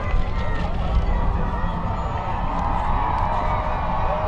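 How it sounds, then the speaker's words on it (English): A holiday parade crowd in McAllen, Texas, claps and cheers as a Dallas Cowboys player passes. The noise is continuous, dense and fairly loud, with scattered shouts and whoops and some speech mixed in. "Lots of applause, lots of folks responding to exactly all of the excitement"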